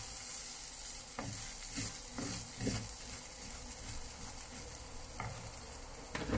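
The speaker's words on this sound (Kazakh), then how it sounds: "Майға жақсылап қуырып аласыздар." Rice frying in hot oil, stirred with a wooden spoon: steady close sizzle with a few scraping, knocking strokes of the spoon against the pan, no voices.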